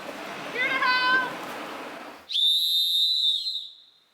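A search and rescue whistle gives one loud, piercing, steady blast lasting about a second, which tails off at the end. Just before it, a short voice-like cry is heard.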